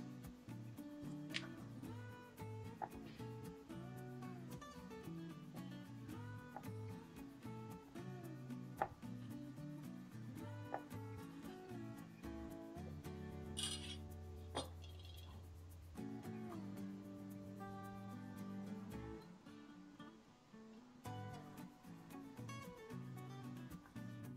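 A knife cuts chilled Oreo-flavour milk cookie dough into thin 0.5 cm slices, making soft, repeated cutting taps under steady background music. No one talks.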